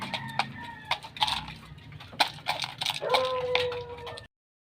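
Chickens eat feed quickly, with rapid pecking and scattering taps mixed with clucks and short calls, close by and busy, with some faint human voices in the background.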